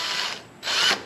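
A power tool drives the stem bolts on a Cyrusher XF900 full-suspension electric bike, two short close whirring bursts with a brief pause between them.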